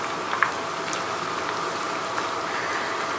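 Pakodi frying in hot oil over a high flame, a dense and even sizzle with small pops and crackles scattered through it, steady and close for the whole stretch.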